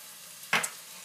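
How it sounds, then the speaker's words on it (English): Chopped garlic, three cloves, hits a hot pan of vegetables, giving one short burst of sizzle that fades quickly in a quiet kitchen. "We are going to add next 3 cloves of chopped garlic."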